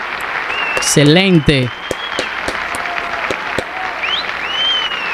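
Live audience applause after a performer's impression on a televised singing show, a steady crowd of clapping lasting several seconds, with a voice speaking briefly over it and a short music sting in the middle.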